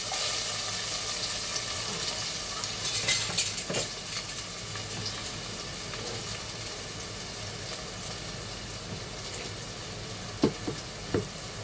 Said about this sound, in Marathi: आता हा कांदा टाकूया.